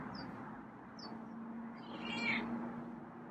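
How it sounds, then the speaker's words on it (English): A feral cat meows softly, with two brief high chirps early and a louder drawn-out meow near the end, heard faintly over a steady low hum. "And he's meowing."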